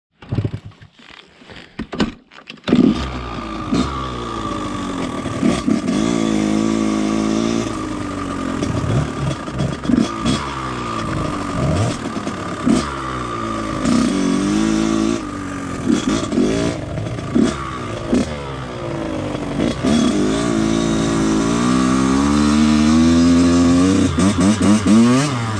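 A Kawasaki 125 KDX two-stroke dirt bike starting up, then riding and revving loudly and close for a long stretch, the engine climbing and falling repeatedly with gear changes, no talking.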